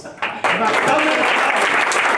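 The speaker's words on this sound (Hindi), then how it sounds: "उसके लिए तालियां जैन समाज बजा रहा है" An audience breaks into loud, sustained applause at a Jain community event in the Delhi Legislative Assembly, rising sharply after a brief spoken phrase and continuing to the end.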